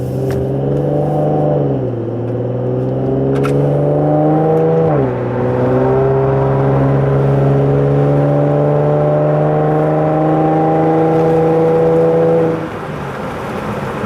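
An Infiniti G37 sedan with a Motordyne Shockwave catback exhaust revs hard and holds at a steady, droning high pitch, dipping briefly before climbing again, then cutting off near the end.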